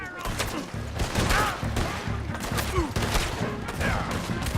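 A game shootout in Red Dead Redemption 2: dense overlapping gunfire keeps up for the whole stretch as a loud, continuous volley, with voices heard faintly under the shots.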